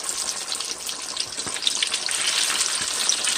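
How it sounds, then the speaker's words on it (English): Flour-dredged chicken deep fries in oil with a continuous close crackling sizzle that grows slightly louder toward the end, alone without speech. "Gonna put it in there and let it fry. This is just in a regular flour dredge"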